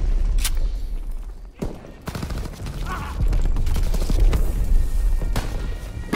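Dense gunfire rattles through a Call of Duty WW2 D-Day battle, rapid rifle and machine-gun bursts overlapping into a near-continuous fusillade with a few sharper close shots standing out.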